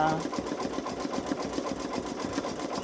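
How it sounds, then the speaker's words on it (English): A Babylock Solaris Vision sewing machine stitches a design with a fast, even, rhythmic whirr of repeated needle strokes, heard close and steady under a person talking. "5 more minutes of stitching on this."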